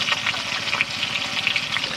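Bhetki fish bones frying in hot oil, a steady close sizzle and crackle that runs the whole time with small bursts of spatter and no voices.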